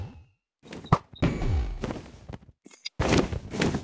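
Bow shots and impacts during a Minecraft Ender Dragon fight, a string of close thunking hits and bursts separated by brief gaps, loud and dense.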